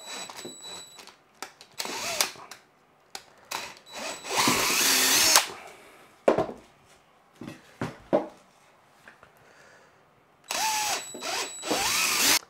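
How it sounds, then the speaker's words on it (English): A power drill with a drill bit whirs in repeated bursts, starting and stopping, with a longer grinding run as the bit bites in, drilling out a hole, close and loud, clicks and handling between. "I'm going to drill the bottom hole out."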